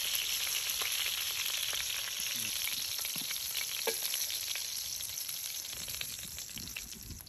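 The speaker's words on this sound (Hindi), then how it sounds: "अच्छा सा फ्राई हो रहा, अब इस तरह और 2 मिनट खाली फ्राई करेंगे।" Chicken pieces fry in hot oil in a pan for Afghani chicken, a steady loud crackling sizzle that runs without a break, with occasional stirring scrapes and no talking.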